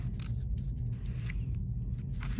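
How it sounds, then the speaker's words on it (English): Scissors snipping through paper while cutting out a butterfly shape along a black outline, a few soft close crisp cuts over a steady low background hum. "So you really want to put your scissors right on the black and cut there."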